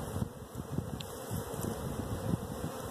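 Honeybees buzz in an opened hive with brood and newly emerging bees, a dense, steady hum close by with faint rustling, no talk.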